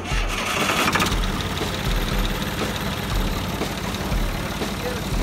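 A Valtra 700 tractor engine cranks and catches, then chugs at a steady rough idle, close and loud.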